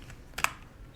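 Code is typed on a computer keyboard, heard as a short cluster of quick, close key clicks with one sharper tap standing out against a quiet room.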